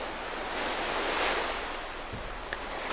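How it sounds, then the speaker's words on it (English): Gentle ocean waves lap on a sandy shoreline in a steady, soft wash of surf, with a slightly louder swell near the middle and no voices. "gentle waves lapping up on the shoreline"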